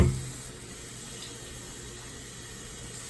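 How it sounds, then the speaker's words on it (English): Steady running water from a tap pours continuously into a cup, a constant close hiss after a brief bump at the start. "Get me a cup and add some more water."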